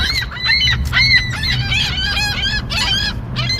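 Geese being fed honk repeatedly at close range, an overlapping series of loud nasal calls over a low background rumble.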